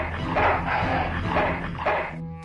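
A dog in the video game Full Throttle, barking and whimpering in repeated bursts with a tonal whine, close and loud over a steady low game background hum.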